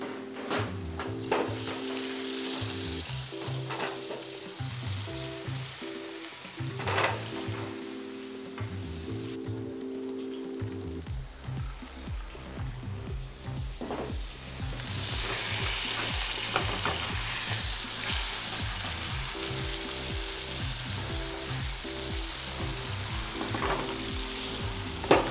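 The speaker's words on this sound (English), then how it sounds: "we're going to saute our onions" Onions sauté in a pan for a beef burger, frying with a continuous close sizzle and repeated rhythmic scraping strokes, with the hiss growing louder and brighter midway through.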